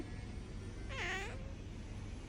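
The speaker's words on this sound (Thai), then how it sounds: "แพนด้าแมวขี้บน ใช่ไหมครับแพนด้า" A house cat gives a single drawn-out meow, clear and fairly close, over a steady low background hum with no talking.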